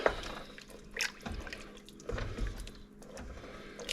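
Great Northern beans being mixed into ham and bean soup in a pot: soft, wet sloshing and squishing from a few slow stirring strokes, quiet and close.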